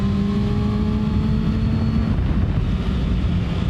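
Kawasaki Ninja ZX-6R engine revving hard on a wet road, with a brief break in the note as the quick shifter changes gear, loud and close under heavy wind rush, no talking.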